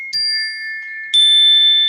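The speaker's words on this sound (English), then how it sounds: "Let me hit my projection bell!" A projection bell is struck twice on a comedy podcast, each a bright ringing ding that sustains, the second strike louder; no talking.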